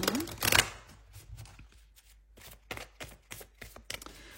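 Cards from a small Lenormand deck are shuffled and cut, starting with a loud riffle burst and followed by a run of soft, irregular slaps and flicks of cards in a quiet room.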